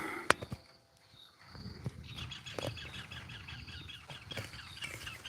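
Pet bird chirping indoors under a tin roof with rain pattering on it, giving a few sharp, close chirps scattered over a soft, steady patter.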